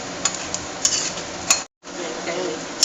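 Okra pieces stirred in a hot pan with turmeric and curry leaves: a steady low sizzle runs under repeated sharp clinks of a spoon against the pan, with one brief silent gap.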